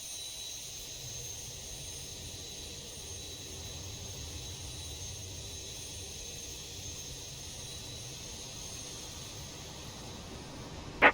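Boeing 737 jet engine spooling up in the X-Plane 11 flight simulator during pushback, a steady high whine with low rumble holding evenly throughout, ending in a brief louder bump.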